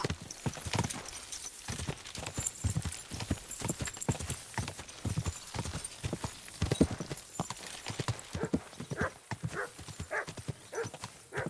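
Hooves clip-clop in a steady, brisk rhythm, close and continuous, with a few faint snorts and whinnies mixed in, from the video game Kingdom Come: Deliverance II.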